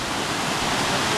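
A river rushes steadily beside a hiking trail in a mountain meadow, a loud, continuous broadband wash of flowing water with no pauses or voices.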